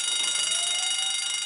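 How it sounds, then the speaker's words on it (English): A workplace fire alarm sounds, a loud, piercing electronic tone ringing steadily and without pause, heard alone. "The fire alarm sounds like this."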